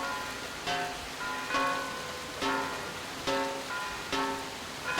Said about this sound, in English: Can't see shit through this rain.